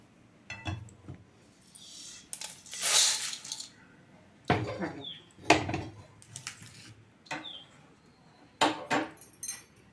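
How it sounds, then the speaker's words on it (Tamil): Roasted urad dal being tipped from a pan into another vessel while making idli podi, heard as scattered bursts of clinking and rattling metal, in short irregular clusters with quiet gaps between them. "இது இப்போ வந்து அந்த பாத்திரத்துக்கு மாற்றிடலாம்"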